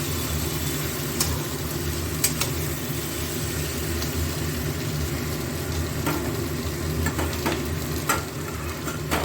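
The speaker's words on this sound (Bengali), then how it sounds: "নাড়িয়ে চালিয়ে একটু জিরের গন্ধটা যাওয়ার জন্য অপেক্ষা করব।" Cumin seeds and boiled potato frying in hot oil in a pan, a constant sizzle with scraping stirs and occasional sharp clicks of the spatula, close and steady with no talk.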